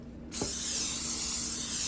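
A short burst of aerosol cooking spray hissing steadily onto a baking pan after a moment of quiet, continuing without pause to the end.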